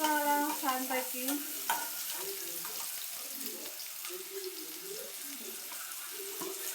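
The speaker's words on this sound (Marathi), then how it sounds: "बारीक चिरलेला, कांदा असा परतवला छानपैकी." Finely chopped onion sautéing in a pan, a soft steady sizzle under stirring, while a voice talks over it in the opening seconds.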